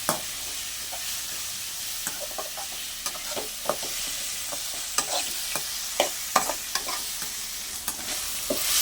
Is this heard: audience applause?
no